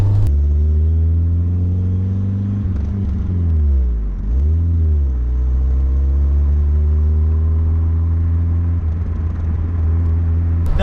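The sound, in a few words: Peugeot 205 GTi Dimma loud exhaust while driving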